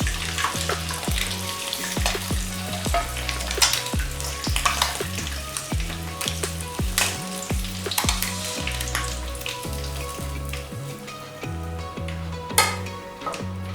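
Eggs fry in a pan for a Dhaba-style egg do pyaza, giving a steady close sizzle broken by repeated clinks and scrapes of a utensil against the pan.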